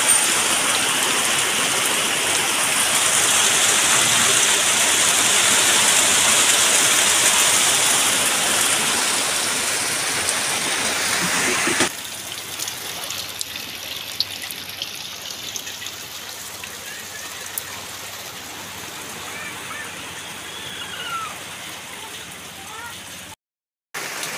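Heavy rain from Typhoon Bebinca on Burias Island pours in a dense, loud hiss for about twelve seconds, then drops to a softer patter with scattered drips, and a voice talks over it.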